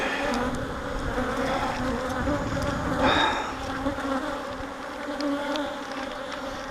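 Honey bees drone in a steady, dense buzz close by while a hive is opened for inspection, with individual insects swelling louder for a moment as they pass near.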